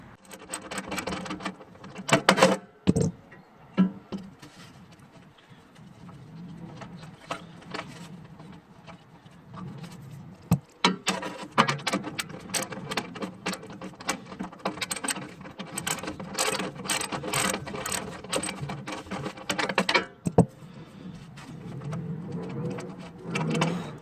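Someone takes a bolt out of an HVAC unit's flame sensor and undoes its wire connector, making close, intermittent metallic clicks, taps and rattles with brief scraping handling noises throughout. No one speaks.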